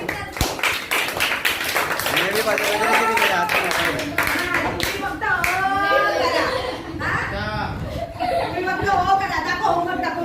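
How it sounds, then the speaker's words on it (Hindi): Children in a school classroom clap in scattered bursts, mixed with giggles, laughter and chatter from the kids and a teacher's voice. "तालियां बजाओ।"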